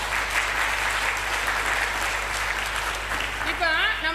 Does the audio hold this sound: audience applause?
yes